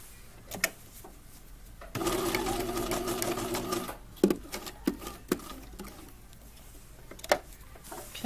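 A sewing machine runs in one steady burst of about two seconds along a tote bag strap, surrounded by quiet handling taps and fabric rustle.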